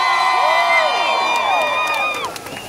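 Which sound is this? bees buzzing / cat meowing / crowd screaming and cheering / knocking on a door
crowd screaming and cheering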